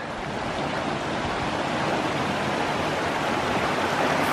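Creek water rushing beside a Colorado Springs hiking trail, a loud, steady broadband roar that fills the whole stretch without pause.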